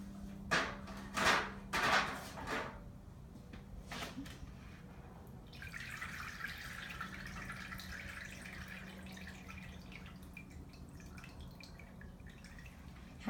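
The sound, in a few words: pouring water through gravel to filter it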